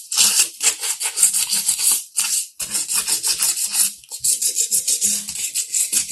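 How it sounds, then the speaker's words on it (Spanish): Sandpaper rubbed gently over the varnished base of a lamp, making steady, close rasping strokes in quick repeated passes with only brief pauses between them. "Empezamos lijando, nada, suavemente, por todo el pie de la lámpara."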